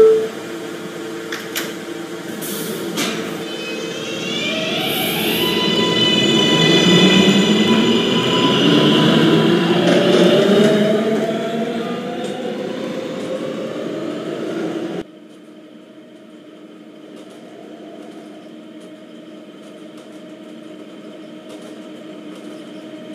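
An R143 subway train on the D line in a Roblox game, rising in pitch as it accelerates with motor whine and rumble, then cutting abruptly to a quieter steady hum after about fifteen seconds.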